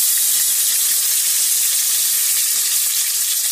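Potatoes for ghugni sizzle loudly in a hot pan over lowered flame, a steady, close, hissing fry with no pauses.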